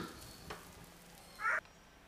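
Quiet, steady sizzle of paste-coated food frying in a pan, with a brief louder tone near the end.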